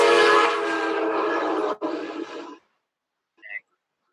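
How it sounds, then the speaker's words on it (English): An Amtrak train passes nearby with a loud, sustained horn blast over its rumble. The sound lasts about two and a half seconds, then cuts off into silence, and a brief faint sound follows. "That was the Amtrak."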